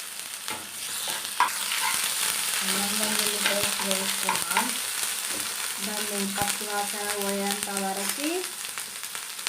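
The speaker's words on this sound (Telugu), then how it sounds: "నెక్స్ట్ కొంచెం అల్లం వెల్లి పేస్ట్" Ginger garlic paste fries and sizzles steadily in a pan for an egg masala dish, with stirring scrapes and a sustained tonal whine from a nearby appliance.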